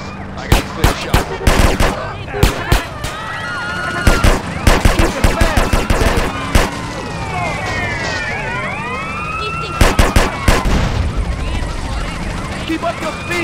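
Rapid bursts of gunfire crack repeatedly in GTA San Andreas during a drive-by car chase, loud and close, mixed with wailing police sirens and shouted in-game dialogue.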